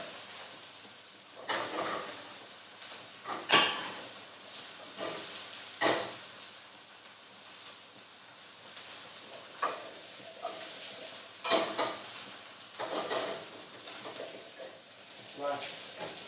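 Chicken pieces sizzle skin side down in a hot enamel pan while being stirred, a steady close frying hiss broken by sharp clinks and scrapes of utensil against the pan, with occasional talk over it.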